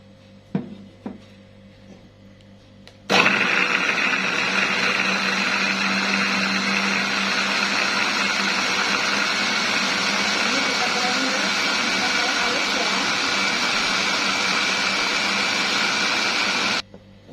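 After a few quiet clicks, a kitchen blender kicks in loudly, grinding spices with a little coconut milk, and whirs steadily for over ten seconds before cutting off abruptly.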